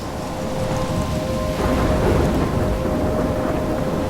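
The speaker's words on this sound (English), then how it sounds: "I'm trapped in a storm?" Thunderstorm with steady heavy rain in the video game Life Is Strange, a dense continuous downpour with a rumbling swell of thunder midway, loud and enveloping, with no voices.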